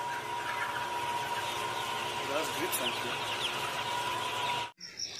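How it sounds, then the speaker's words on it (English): A few short clucks from a hen, fairly faint beneath a constant noisy background hum. "H for hen."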